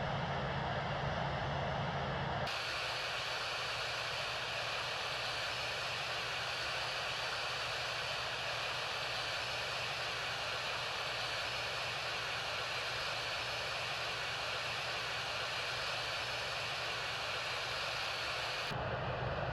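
Steady, loud broadband roar fills an Air France A320 airliner cabin during descent, a constant engine and airflow wash that holds unchanged throughout with no voices.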